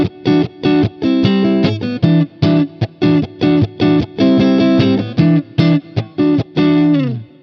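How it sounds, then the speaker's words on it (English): A PRS SE Custom semi-hollow electric guitar plays a clean-tone riff, loud, close and alone, with crisp repeated chord stabs separated by short gaps and a final held chord. "It gives me my clean tone. So at the moment I'm using a PRS, my semi-hollow SE Custom."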